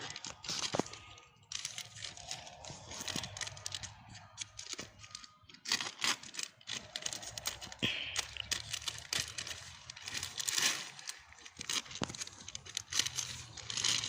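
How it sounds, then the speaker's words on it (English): Scissors snipping through plastic sheeting used to cover garden rows, giving close, irregular crinkling and cutting crackles with short pauses, no talk. "got our trusty scissors. We're just gonna cut and hope that we're going the right direction here."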